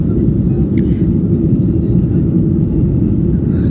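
A steady, heavy low engine roar of a plane accelerating down the runway for takeoff holds constant and loud throughout, with no clear rise in pitch.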